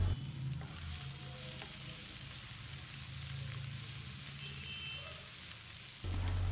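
Cut potato pieces hiss and sizzle in hot oil in a pan while being stirred with salt, a steady close frying crackle with occasional scraping, then a brief louder thump at the end.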